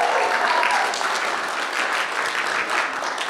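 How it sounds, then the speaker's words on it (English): Sustained applause from a large crowd, steady and dense clapping throughout with no voices standing out. "Another round of applause for that."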